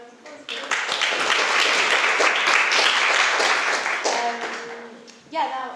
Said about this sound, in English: come for a round of applause